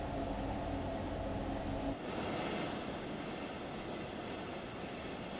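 Electric train running on the Main Spessart Bahn line in Train Sim World 2, a loud continuous rumble of wheels and motor with a steady hiss and no voices.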